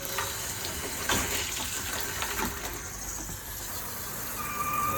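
A bathroom faucet runs in a steady, close hiss of flowing water that carries on unbroken and fills the whole stretch, with a few faint knocks in the background.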